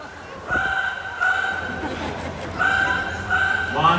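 A parrot at a bird show imitates a telephone ringing, giving repeated electronic-like trilling rings in bursts over steady background crowd noise.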